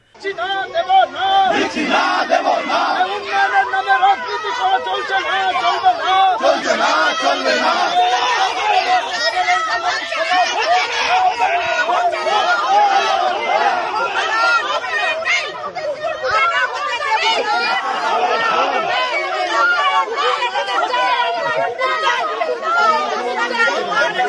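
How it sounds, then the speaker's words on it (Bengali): A crowd of local women protests in front of a park under construction, with dense overlapping shouting and chanting voices that keep up loudly and steadily throughout. "এদিন স্থানীয় মহিলারা পার্কের সামনে বিক্ষোভ দেখাতে থাকেন"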